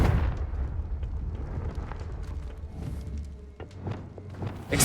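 A Confringo fire-blast spell from the Hogwarts Legacy video game, heard as a continuous rumbling, booming roar with scattered crackling bursts, steady and fairly loud throughout.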